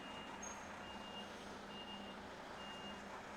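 A big truck reversing in a tipping yard, its high reversing beeps repeating at a steady slow rhythm over a constant low engine rumble.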